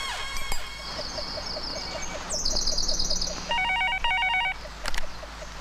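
A telephone rings in a scene from the 1997 Hindi film Pardes, an electronic warbling ring repeating in steady bursts over a low background hum, with a brief sharp knock near the end.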